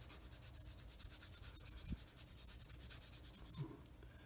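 Fast, close scratchy rubbing as the inside of a small 1/35 scale plastic model kit part is sanded, in rapid back-and-forth strokes with no talking.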